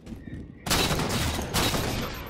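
Rapid gunfire bursts out in Halo 4 multiplayer gameplay, a loud sudden volley of shots after a brief quieter moment, followed by a second close burst.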